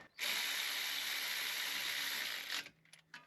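Rapid, loud ratchet wrench run tightening bolts on the rear axle of a 2001-2005 Dodge Grand Caravan AWD, a steady clicking buzz for over two seconds, then a few short separate clicks, with no talk.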